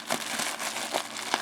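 A knife slices open a fountain pen mail package, producing close, sharp crinkling and tearing of packaging in a few quick bursts, with no talking.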